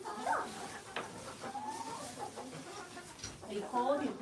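Backyard chickens cluck in short bursts on a cold winter day, close to the microphone and mixed with people talking nearby.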